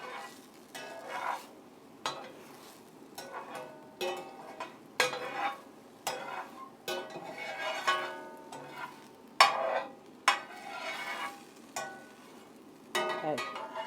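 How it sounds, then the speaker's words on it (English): A peach cobbler pancake frying in butter in a pan, gentle sizzle beneath rhythmic scraping and swishing strokes repeated about every second, close and fairly quiet. "Now that it started to set, I'm going to loosen the bottom and swish it around in all that butter"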